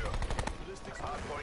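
Rapid bursts of Spitfire submachine gun fire in Call of Duty on Nuketown, a quick rattling volley repeating over the short span with voices mixed in.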